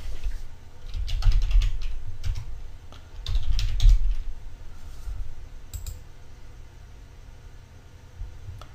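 Quick bursts of keystrokes on a computer keyboard entering login details, close clicky tapping in two main flurries with a few scattered presses afterward.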